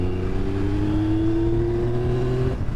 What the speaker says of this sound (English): Let's do a higher geared pull, so 4th gear at 30 miles an hour.